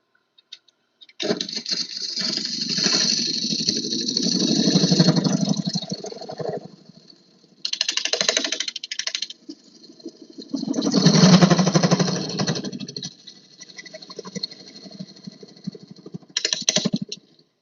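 A flat skew chisel cuts manzanita wood spinning on a lathe, with rapid chattering, buzzing bursts of cutting separated by short pauses, loud and close.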